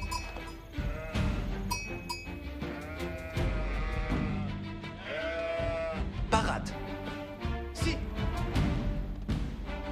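Sheep bleat repeatedly in Age of Empires IV, medieval strategy game, layered over busy game music and effects, with someone talking over the scene.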